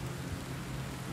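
Steady rain hisses in the strategy game Kainga: Seeds of Civilization, a constant, even wash of noise with no voices.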